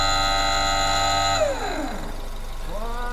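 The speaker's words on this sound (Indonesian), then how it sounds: "Nah, itu kawan-kawan, itu suara ABS." A car's ABS actuator motor buzzes loudly during an active test, a steady harsh drone with overtones that drops and sweeps down in pitch, then rises again at the end.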